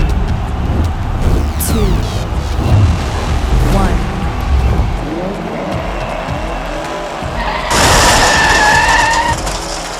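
Hot Wheels die-cast American muscle cars race down a double-lane curved track. A Mustang is knocked off the track, heard as rolling and rumbling, then a sharp burst of clatter near the end.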